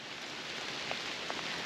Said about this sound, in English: if it is raining, it's not like pouring on us, but it's still dropping from the trees